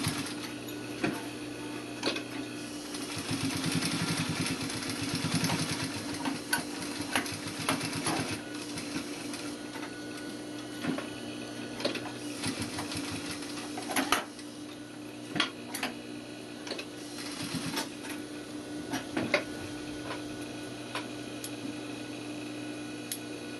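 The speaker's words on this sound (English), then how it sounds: "go ahead and then edge stitch all the way around the outside of your welt" A sewing machine edge stitching around the outside of a welt pocket, with a steady mechanical whir broken by short pauses and sharp clicks as the fabric is turned, heard up close.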